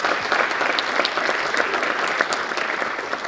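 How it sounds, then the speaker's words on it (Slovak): An audience applauds at a book launch and concert in Myjava, with dense, steady clapping from many hands that stays loud and even for the whole stretch. "to si zaslúži potlesk"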